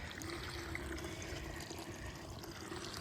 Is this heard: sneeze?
no